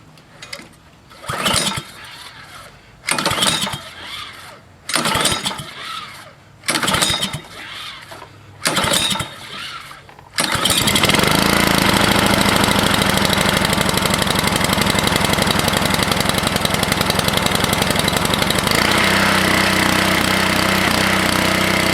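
A Craftsman 24-inch snowblower engine is pulled over in a series of sputtering attempts, then catches and runs at a loud, steady clatter that shifts slightly in pitch near the end.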